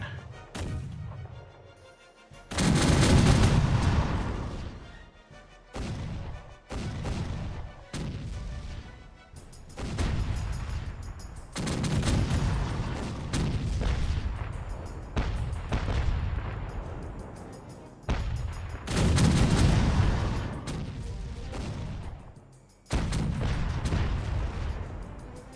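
Repeated gunshots and cannon-like blasts in the pirate game Caribbean Legend, loud sharp bursts arriving in irregular clusters with dense rumbling tails, almost no talking.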